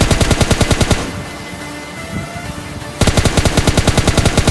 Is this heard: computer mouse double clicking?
no